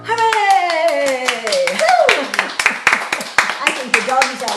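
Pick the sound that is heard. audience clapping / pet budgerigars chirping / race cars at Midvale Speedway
audience clapping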